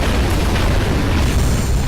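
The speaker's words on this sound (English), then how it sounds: "Fire your big cannon." Heavy cannon fire from a big warship in the strategy video game Ashes of the Singularity, a dense, sustained booming blast filling the whole stretch, loud and close with no talk over it.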